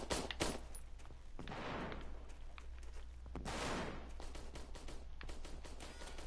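Scattered gunshots crack repeatedly from a PS4 video game, several sharp bursts spread across a dense, noisy backdrop of game sound at low volume.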